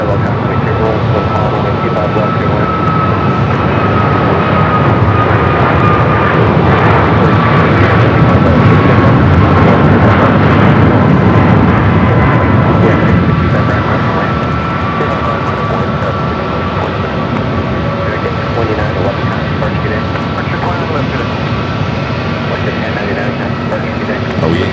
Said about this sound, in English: We'll be heading down for takeoff on the 25 left.